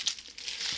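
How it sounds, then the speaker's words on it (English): A plastic bag of the kind used for storing drones crinkles close by in a brief burst of rustling, alone and without any talk. "plastic bags like this one I have here for my drones"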